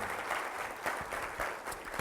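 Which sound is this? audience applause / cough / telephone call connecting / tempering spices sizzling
audience applause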